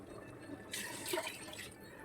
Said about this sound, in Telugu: ఇప్పుడు వాటర్ వేసేద్దాం